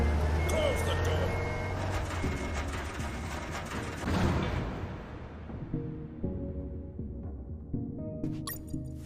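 Truck engine idling with a steady low rumble and rhythmic reversing beeps from the Unmetal video game, loud at first then fading as the engine settles, with game tones near the end.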